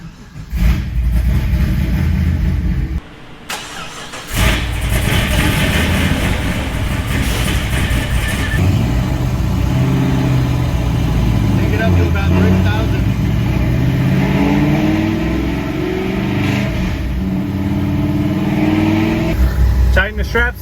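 Pontiac GTO strapped to a chassis dyno, its engine firing up and running with loud, steady revving that rises and falls, a brief dip near the start, and voices talking over the engine noise.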